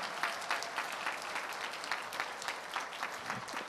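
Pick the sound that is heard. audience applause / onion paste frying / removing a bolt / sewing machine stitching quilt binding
audience applause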